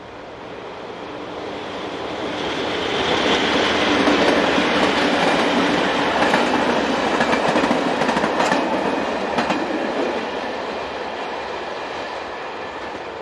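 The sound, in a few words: EFW locomotive hauling an engineers' train, Switzerland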